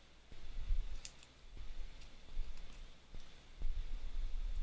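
Scissors with a dull spot cutting during a craft session, a series of sharp snipping clicks in uneven rhythm over a low background rumble, close and fairly quiet.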